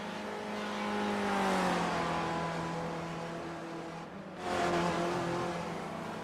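A race car in a sim racing game sweeps past on a track, its engine note rising then falling as it goes by, followed by a second car roaring through close behind with no talk over it.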